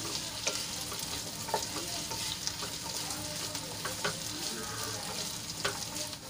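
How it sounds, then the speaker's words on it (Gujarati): Potatoes sauté in hot oil while being stirred, giving a steady, close sizzle with frequent scraping and clinking stir strokes throughout and no talking. "એક થી 2 મિનિટ આપણે આ રીતે હલાવીને એને સાંતળી લઈશું."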